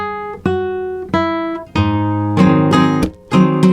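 Spanish guitar playing a famous rumba rearranged into a major key, with plucked notes opening into fuller strummed chords in a rumba rhythm, heard up close with no talking.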